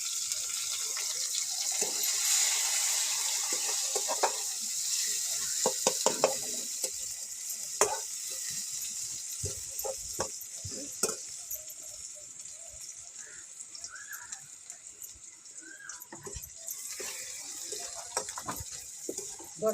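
An onion sizzles and crackles as it is fried and stirred in a pan in a village kitchen, the start of a dry ridge-gourd vegetable dish. A steady frying hiss carries through, broken by scattered scraping clicks from the stirring.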